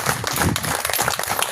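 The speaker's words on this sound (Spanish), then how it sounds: "Dale un aplauso al Señor" A church congregation claps in praise during a worship service, a loud, dense and steady round of applause from many hands, with a little low rumble of the room underneath.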